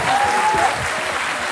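Audience applause at a preschool's annual fest, a dense, steady wash of clapping from a crowd with a brief whistle-like tone near the start.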